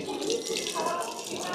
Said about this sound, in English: Yes, I found a fountain.